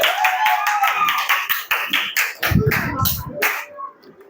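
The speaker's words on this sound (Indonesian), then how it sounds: "Tepuk tangan untuk kita semuanya" Fifth-grade primary school pupils in a classroom clap together in quick, roughly synchronized bursts that grow looser toward the end, with some chatter and noise mixed in before the clapping fades out.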